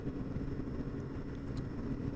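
Steady low rumble of a 1600cc motorcycle engine running, a continuous, fairly quiet drone with no speech.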